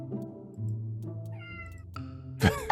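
A cat meows in a video game, a few plaintive, tonal cries over a steady game soundtrack, with a sharper, louder yowl near the end.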